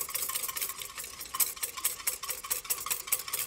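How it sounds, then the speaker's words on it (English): A whisk beats citric acid into a cocktail liquid, making rapid, rhythmic clinking and swishing against the container, close and fairly loud with no talking. "So then we're gonna just whisk it."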